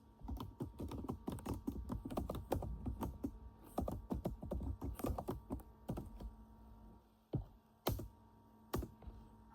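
Keys clatter on a computer keyboard as a company address is typed into Tally Prime accounting software, quick irregular bursts of close clicks with short pauses, then a few isolated taps.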